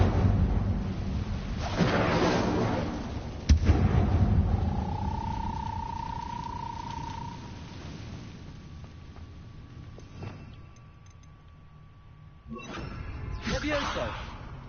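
Incendio fire spell cast in Hogwarts Legacy, burning webs: whooshing fiery bursts with rumbling low roar, a sharp hit around three and a half seconds, a sustained tone midway and another fiery rush near the end, with talking.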